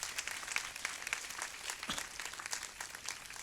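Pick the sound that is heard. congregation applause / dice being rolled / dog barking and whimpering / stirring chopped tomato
congregation applause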